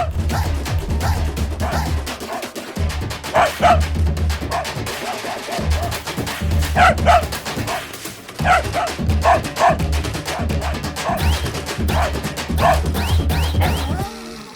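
A dog barks repeatedly in a horror-comedy film scene, sharp yips and bow-wows in bursts, loud and close over a busy background.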